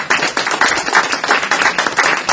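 A small expo audience at a vibration panel claps steadily for a couple of seconds, a close, lively patter of many hands with no voices over it.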